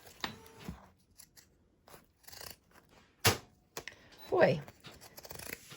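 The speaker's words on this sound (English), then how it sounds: "maybe the pinking shears were not a great idea," Pinking shears snipping through cloth, a few sparse crunching cuts with quiet gaps between, close and soft, with a brief spoken word.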